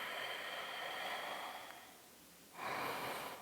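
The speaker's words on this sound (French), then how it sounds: "On respire." Deep breathing during a vinyasa yoga flow: a long airy exhale followed by a brief pause and a sharp inhale, close to the microphone and clear with no talking.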